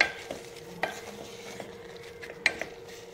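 Pumpkin mixture is stirred as it cooks in a pan over a low gas flame, giving a soft steady sizzle broken by a few light scrapes and clinks of the spoon against the pan.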